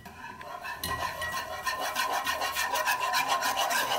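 Stirring a basbousa mixture thickened with starch and milk in a pot: a steady rhythmic scraping and rubbing of a utensil against the pan, close and continuous, quickening toward the end, with no talking.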